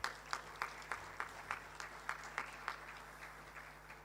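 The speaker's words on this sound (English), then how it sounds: "Let's give a round of applause to the organizer," Scattered applause at the Asia Pacific Futures Network conference for the organizers, hosts and sponsors: a steady, fairly faint patter of hands with a few louder claps standing out in a loose rhythm, and no voices.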